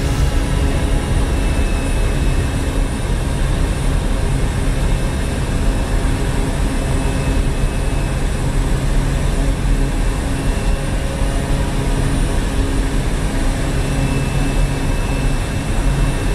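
A seaplane takes off in Microsoft Flight Simulator over the Maldives, its engine roar a steady, loud, unbroken drone that holds constant for the whole stretch with no talk over it.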